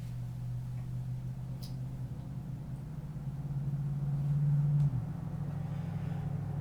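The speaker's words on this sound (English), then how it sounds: "we live right on a main road here in town, so until really late tonight, you'll hear a lot of those cars" Cars passing on a main road outside a house in town, a low steady rumble that swells as one vehicle goes by nearby and then fades, heard faintly indoors.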